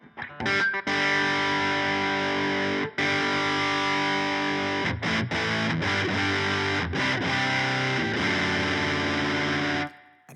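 An electric guitar runs through a Fulltone OCD overdrive pedal on its own, giving thick, loud distorted chords held and restruck with short breaks, ending in a quick cutoff, with no voices.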